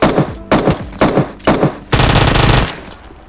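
Shotgun fire in the mobile battle royale game PUBG Mobile, with four loud, evenly spaced blasts about half a second apart, followed by a longer sustained burst of rapid gunfire, all close and alone.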